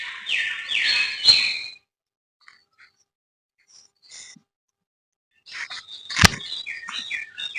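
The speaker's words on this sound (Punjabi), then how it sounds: "ਬਾਕੀ ਉਹ ਤਾਰ ਤੇ ਛੋਟੀਆਂ ਛੋਟੀਆਂ ਚਿੜੀਆਂ।" Small sparrows perched on a wire chirp in quick, bright bursts, with one cluster at the start and another near the end and a near-silent gap between them.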